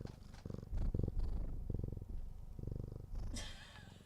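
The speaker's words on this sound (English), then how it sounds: "don't listen to this purr" A domestic cat purrs close up in steady rhythmic pulses, loud and continuous, with a brief higher rustle near the end.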